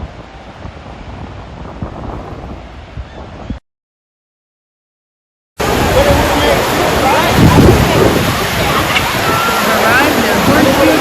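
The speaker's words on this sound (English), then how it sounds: "Now we're visiting Horseshoe Bay Beach area." Surf at Horseshoe Bay Beach, Bermuda, a pink-sand beach: a steady wash of waves under heavy wind buffeting on the microphone, broken by a short silent gap before the waves return louder.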